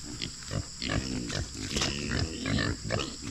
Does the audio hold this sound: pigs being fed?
yes